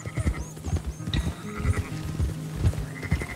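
Sheep bleat in the Red Dead Redemption II video game, several overlapping calls repeating over a busy game soundscape with hoof-like thumps and background ambience.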